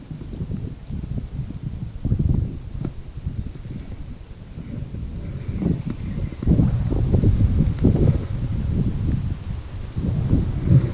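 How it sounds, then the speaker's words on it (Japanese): Strong wind blows across a small pond during bass fishing, a continuous low rumbling buffet against the microphone that swells louder in the second half, with no voices. "風がちょっとね強く吹いてて"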